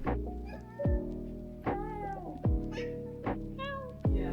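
A cat meows repeatedly inside a cozy condo, about five distinct drawn-out calls spaced roughly a second apart, close and clear with no talking.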